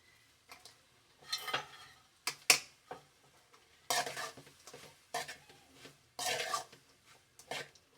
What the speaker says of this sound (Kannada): ಪನ್ನೀರ್ ಹಾಕೋಣ.